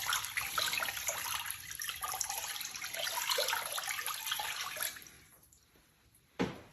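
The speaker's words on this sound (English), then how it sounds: "initially I'm gonna pour in 4 cups of water here first" Four cups of water pour steadily into a Staub pot in a broad splashing rush for several seconds, then taper off, followed by a brief sharp clatter near the end.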